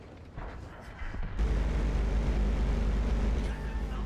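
A tank cannon fires in World of Tanks, a sudden heavy boom followed by a loud sustained engine rumble that continues steadily; a voice talks briefly beneath the noise.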